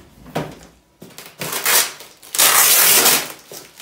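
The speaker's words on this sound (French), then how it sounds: "quel joli bruit que ce scotch que l'on retire" Adhesive tape ripped off the cardboard box of a Sideshow Wolverine Premium Format statue in several short tearing bursts, the last and longest one loud and close, with brief pauses between pulls.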